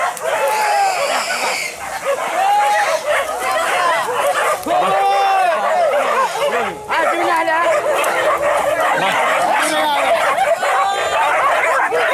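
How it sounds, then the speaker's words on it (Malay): A pack of hunting dogs barks and yips in a dense, nonstop frenzy while mobbing a large wild boar, with whimpering and squealing mixed in; loud and close throughout, with people's voices also heard. "seekor babi hutan dengan ukuran besar pun dikerbuti para anjing"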